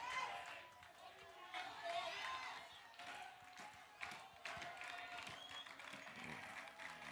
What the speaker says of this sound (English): Lots of clapping.